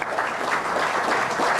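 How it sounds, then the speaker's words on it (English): Audience applause at a groundbreaking ceremony for a food bank warehouse in Houma, a brief burst of dense, energetic clapping from a crowd, loud and continuous without talk. "Let's give them a round of applause."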